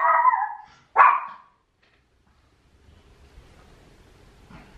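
A small indoor dog lets out two sharp barks close by as another dog walks past outside, followed by quiet low background rumble.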